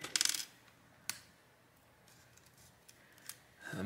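Small plastic and metal clicks and a brief rattle come from prying the SIM tray out of a Nokia 2.3 phone during a teardown, close up and quiet, with a short burst at the start and a few faint ticks after.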